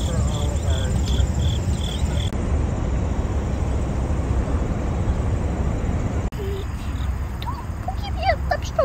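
A dense, loud outdoor drone of buzzing bees fills the air continuously, with faint birdsong and high chirps mixed in, in Chicago.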